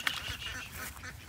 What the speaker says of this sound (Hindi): सिर्फ हमारी छोटी डक्स रह गई हैं।